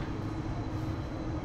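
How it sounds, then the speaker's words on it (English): A tram passes at a train station as a steady, dense low rumble, continuous and fairly close, with no voices over it. "It's trams. Trams."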